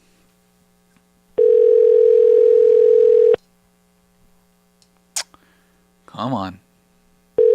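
A phone call rings out as a steady, loud tone for about two seconds, followed after a pause by short beeps and a warbling signal, with a brief spoken word in between.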